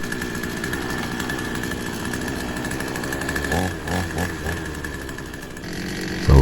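A petrol chainsaw idles steadily close by after carburetor adjustment, then blips its revs a few times near the end, with no talk.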